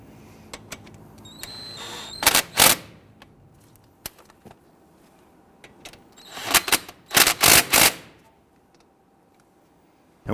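Rapid ratchet clicks come in several short bursts, loud and close, as brake caliper bolts are snugged down on a 2008-2013 Infiniti G37, with quiet gaps and a few single clicks between.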